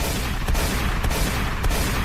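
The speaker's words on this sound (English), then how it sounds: "gunshots" Loud, dense gunfire with several sharp bursts standing out over a continuous roar of shots, no voices.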